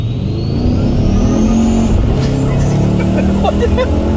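A twin-turbo Chevrolet Silverado exhaust as the truck downshifts, a loud close rumble with a rising high whine, while people talk over it.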